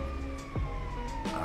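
An ambulance siren in GTA 5 with the Rescue Mod V wails in steady sweeping tones over engine rumble, loud and close, with no talking.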